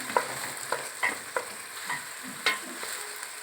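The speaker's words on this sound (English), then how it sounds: "Got the onions cooking." Onions fry in a pan for Hungarian pörkölt, a soft, fairly quiet sizzle punctuated by a series of light stirring clicks and taps of a utensil.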